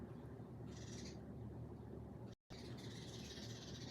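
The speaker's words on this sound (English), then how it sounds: "these birds are fighting" Birds squabbling outdoors, with harsh screeching bursts and flapping over a steady, noisy background that runs nearly throughout and breaks for a brief silent gap midway.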